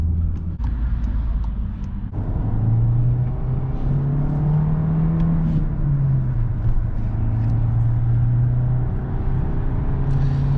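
A 2018 VW Passat B8 with a 1.4 TSI engine pulls away slowly, its engine note rising and holding steady from inside the cabin, with a continuous low rumble throughout.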